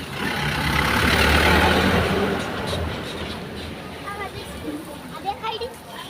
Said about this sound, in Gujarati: આરવી બસ આવે છે આરવીની.